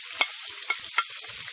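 Scallion, garlic, hot bunny pepper, tomato, onion, sweet pepper and thyme sautéing in a pan, with three quick scraping stirs over a faint, steady sizzle, heard alone and fairly quiet.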